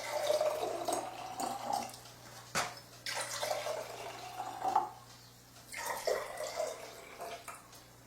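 Water splashes and trickles in uneven bursts as Kangen alkaline water is poured into bottles, with occasional drips and gurgles, fairly close and moderately loud.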